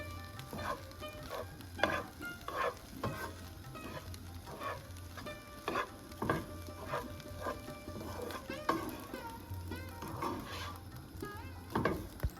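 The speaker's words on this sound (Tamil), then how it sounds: "அஞ்சு நிமிஷம் ஸ்டவ்லேயே வச்சு நல்லா திருப்பி விடணும்" Lentils with carrot and beans being stirred in a pan on the stove for paruppu usili, a steady soft sizzle broken by regular scraping strokes of the spoon at close range, with no talk.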